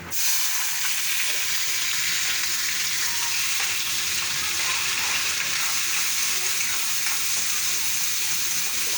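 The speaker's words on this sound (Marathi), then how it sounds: "कांदा परतूया आपण।" Onions sautéing in hot oil for eggplant bharta, a loud, dense, continuous sizzle and crackle close up with occasional faint stirring.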